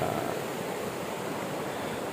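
A river flows near a chalet at a Malaysian forest campsite, a steady, close, broadband rush of water with no breaks or voices.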